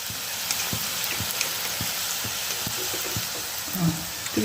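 Fried modak dumplings crackle in hot oil, a steady bright sizzle with scattered pops and small bubbling bursts throughout, close and continuous with no talking.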